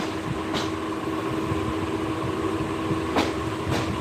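Steady rumble and rattle inside a moving Bijoy Express passenger carriage, a near-empty coach heading from Jamalpur toward Chattogram, with a constant low drone and a few brief louder clunks of the wagon.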